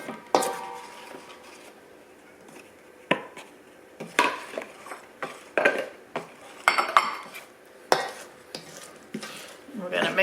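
Sifted flour being stirred into a liquid oatmeal coconut muffin mixture in a bowl: close, irregular scraping and knocking strokes of a utensil against the bowl, growing busier toward the end, without speech.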